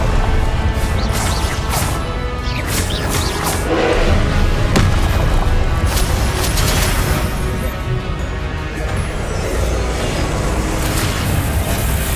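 Confringo blasting spells bursting in Hogwarts Legacy, a steady run of loud booming explosions and crashing impacts filling the scene throughout, with dense low rumble and sharp bright cracks layered over it.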